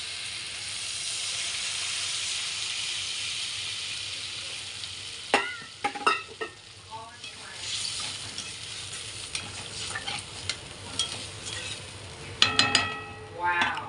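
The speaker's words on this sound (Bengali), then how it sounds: "এর মধ্যে দিয়ে দেবো আমি এখন জল, পরিমাণ মতো জল দিয়ে দেবো।" Steady sizzling hiss of a hot pan of sour green-mango fish curry, with a few sharp bursts and crackles as water is added, then clinks of stirring toward the end.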